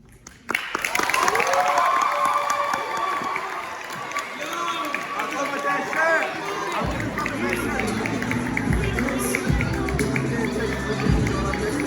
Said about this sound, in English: Can we get Efrain another round of applause?